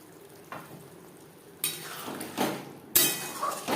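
Water poured into a pan of aubergine curry simmering over a high gas flame, sizzling and splashing in bursts that build louder toward the end, close by with the clink of a utensil.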